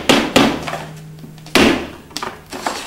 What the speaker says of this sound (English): I start out by just lightly tapping it with the hammer to move it in.